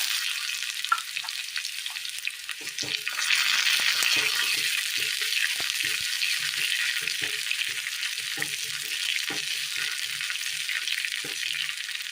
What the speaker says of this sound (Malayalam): പൊട്ടിയ കടുകിലേക്ക് ചെറിയുള്ളി അരിഞ്ഞത്,